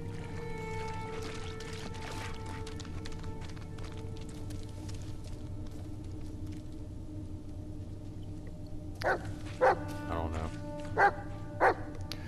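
In the Blair Witch video game, a dog barks in short, spaced yaps late on over a low ambient drone. Someone talks quietly earlier in the clip.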